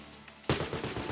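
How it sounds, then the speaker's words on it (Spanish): Sudden burst of gunfire in the PC game Secret Agent No. 6 demo after a quiet moment, several rapid shots in quick succession, loud and close. "Los efectos de balazos son auténticos, ¿eh?"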